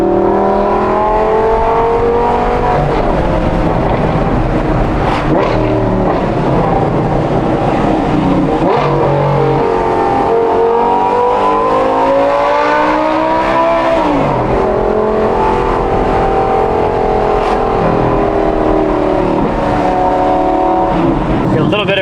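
A Gen 1 Audi R8 V10 with stock headers and a Valvetronic Designs exhaust revs loudly and continuously, the engine climbing and falling in pitch with echoes off nearby buildings and someone talking over it.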